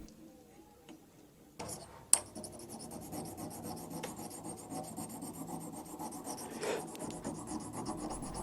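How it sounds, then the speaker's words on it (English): Rasping, rhythmic filing strokes work over the bent, damaged metal taper of a screw-on wood chuck, fairly quiet and continuous after a couple of sharp knocks near the start. "I'm trying to clean up the taper as good as possible"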